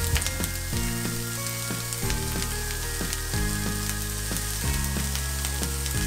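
Cabbage stirred and fried in a pan for Bicol pancit bato, a steady close sizzle with repeated scraping strokes of the spatula throughout.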